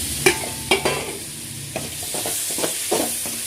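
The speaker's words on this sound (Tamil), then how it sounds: "கொஞ்சம் தக்காளி மசிகிற அளவுக்கு வதங்கட்டும்" Tomatoes and green chilies sautéing in a pan: a spoon scrapes and stirs with a few sharp knocks while a soft sizzle hisses underneath.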